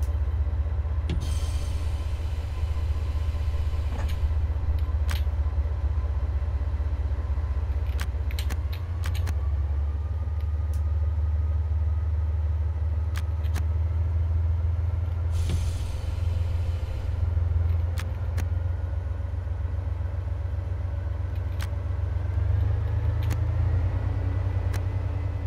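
Low steady rumble of a train rolling after its brakes are released in Train Sim World 4, with rising tones and scattered clanks through a continuous drone, no voices.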